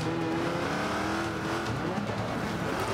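Race cars in the Forza Motorsport 5 racing game roar continuously with high-revving engines and tire squeal, a dense, loud wall of motor noise with no speech.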